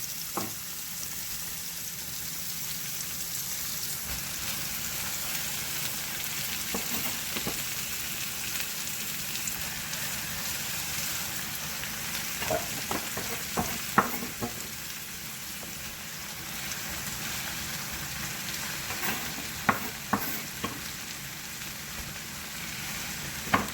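Cabbage for Jamaican-style corned beef and cabbage fries in a pot with a continuous crackling sizzle and scattered pops and stirring clicks, close by, with no voices.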